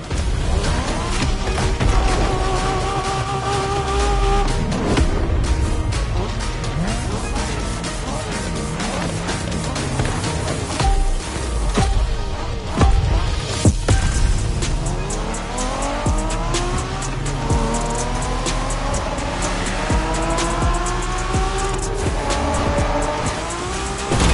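A race car in The Crew Motorfest tears through a Japanese street race, its engine revving and shifting up while the tires squeal and skid in repeated bursts throughout.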